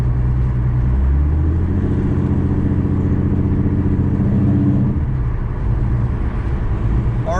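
A car engine fitted with an idle chop mod hums steadily while driving and coasting, with loud, continuous engine and road noise and slight shifts in pitch.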